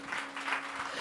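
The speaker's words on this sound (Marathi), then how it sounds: "जरा जोरदार टाळ्या प्रभूच्या गौरवासाठी." A church congregation bursts into steady, full applause during a sermon, a dense wash of clapping that stays even and fairly soft for the whole moment.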